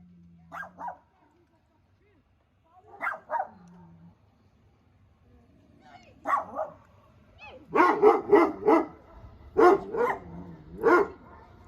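Several dogs bark in short bursts, first a couple of separate barks, then a louder rapid cluster of barking close by.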